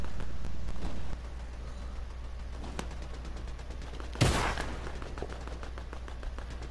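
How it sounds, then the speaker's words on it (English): Bursts of video game gunfire crackle from a multiplayer shooter over a steady low hum, a rapid string of faint shots followed by one sharper, louder report and more distant firing. "Why are you shooting?"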